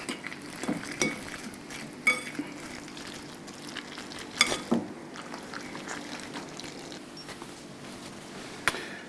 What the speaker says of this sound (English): Okay, carry on mixing.